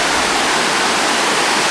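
Niagara Falls at the Cave of the Winds roars close up, a loud, dense, unbroken wash of falling water that fills everything with no other sound.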